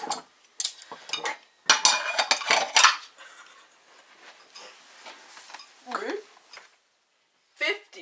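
Dishes and cutlery being cleared from a table in a diner, with a run of loud clattering clinks and scrapes early on, then quieter handling, while people talk.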